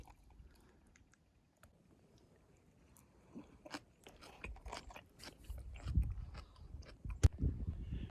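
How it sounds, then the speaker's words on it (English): A gas station salad tossed with toppings is eaten, with faint close chewing and crunching that grows louder and busier toward the end. No talking. "Let's give it a shake and taste."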